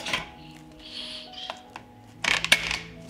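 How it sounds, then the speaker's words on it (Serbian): A 6-litre pressure cooker holding jars and a litre of cold water has its lid shut: light metallic clinks and rattles, then a sharper cluster of clanks near the end, close and with no talk. "Zatvorit ću ekspres lonac"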